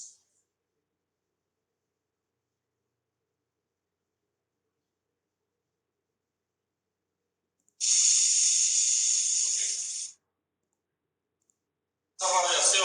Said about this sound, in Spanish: un chisporroteo ahí, que es la bobina Tesla la responsable de estar emitiendo una radiación